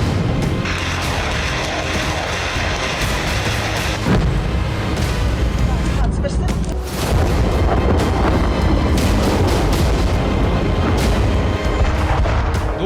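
Russian missile strikes hitting Ukraine: heavy booming blasts and rumbling detonations pound through dense, chaotic noise, loud and close, with a brief dip before the barrage resumes.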